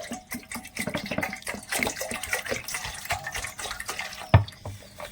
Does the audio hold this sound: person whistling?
no